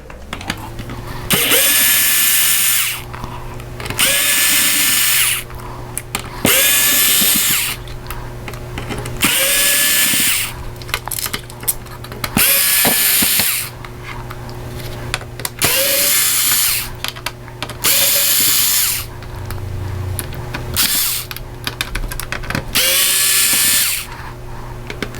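A power screwdriver whirs in repeated short bursts as gold screws come out of a Nintendo 64 during a restore and cleaning, each burst a high buzzing spin separated by brief pauses and small clicks.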